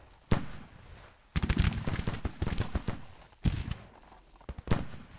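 Several artillery shots fire in a Civil War battle in the strategy game Grand Tactician, with 6-pounder guns and a 24-pound howitzer on the field. Sharp, loud reports come in uneven bursts with short gaps between them.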